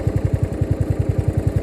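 A worn 15.5 horsepower riding lawn mower engine running close by, a fast, steady low chugging pulse with slightly uneven beats.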